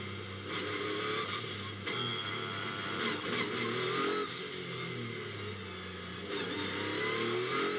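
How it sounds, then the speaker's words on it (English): Onboard a Maserati GT2 race car lapping Hockenheim, the engine drones loud and steady with shifting pitch as it revs and changes gear, wind and cabin rumble filling the background. "Alexandre Leroy's Maserati you are on board with"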